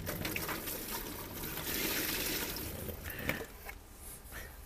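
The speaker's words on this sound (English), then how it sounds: "So you can see all that water's just pour it all in." A bucket of water poured into a disposable cardboard shower tub, a continuous rushing splash that swells in the middle, then thins to a lighter trickle with a brief knock near the end, quiet and close.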